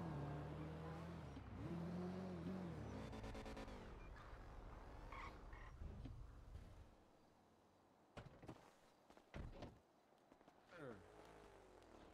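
A car engine in GTA V roleplay hums and revs as the vehicle drives and turns right on red through city streets, with someone talking over it before the engine fades.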